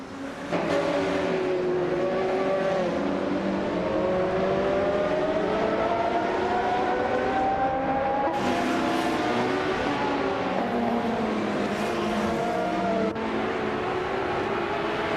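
A 1996 Osella PA 20 sports prototype with a 2.0-litre BMW engine races hard, its engine note climbing steadily through the gears, loud and close, with brief shifts and a sustained high-revving whine.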